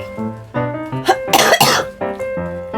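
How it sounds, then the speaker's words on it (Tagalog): A person coughs repeatedly in a few harsh, close bursts, with throaty voiced sounds between them, while ill with flu symptoms. "Ito, may ubo pa po ako."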